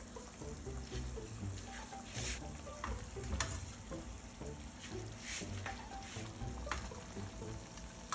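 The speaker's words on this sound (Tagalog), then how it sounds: "Pag kumulo na, pwede na nating ilagay dito yung bangos." Milkfish steak goes into a simmering sauce in a frying pan, with steady sizzling and bubbling throughout and a few soft clicks and taps of handling.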